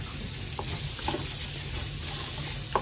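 Onions and beef frying together in a pan, giving a steady bright sizzle with a low hiss underneath and a few soft stirring scrapes, close and continuous.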